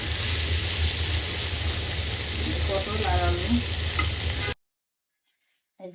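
Fried fish simmering with pointed gourd in a pan gives a loud, steady sizzle with occasional stirring scrapes, then cuts off abruptly into near silence.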